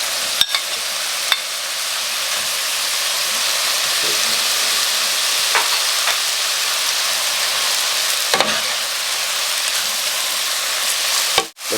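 Garlic and mixed mushrooms stir-frying in a pan, with a loud, steady sizzling hiss broken by a few sharp clinks and scrapes of the spatula, close up and with no talking.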